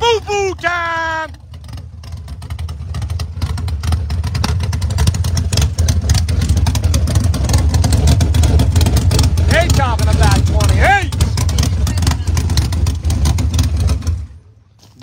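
A street race car engine fires up and revs, a loud, sustained low rumble that builds and holds for most of the clip with brief higher whines, then cuts off near the end.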